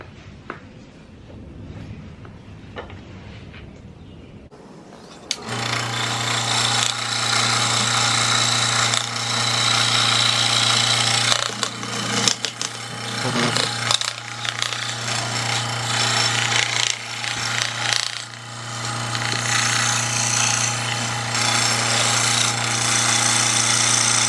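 A scroll saw makes inside cuts in wood for a sword with a resin-cast bee. After a few seconds of quiet, a loud, steady buzzing hum starts and keeps on, with rougher, rasping stretches as the blade bites.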